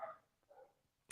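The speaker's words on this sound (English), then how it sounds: "I don't know if you can hear dogs barking." Dogs bark next door through a fence, sounding faint and distant: two or three short, separate barks across about a second, with no talk over them.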